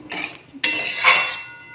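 A utensil stirs potato and pea curry gravy with garam masala in a pan, making a few close metallic clinks and scrapes in short bursts.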